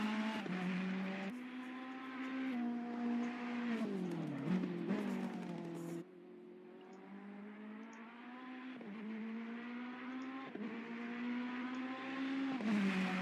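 A Ferrari GT race car in Assetto Corsa Competizione at Bathurst roars continuously at close range, its engine climbing through the revs, dropping on each upshift and braking, then winding up again through the gears.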